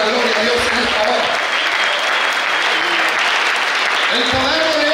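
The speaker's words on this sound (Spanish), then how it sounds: "Denle el aplauso" Congregation applauding during an evangelical church service, steady loud clapping throughout with faint music or voices beneath.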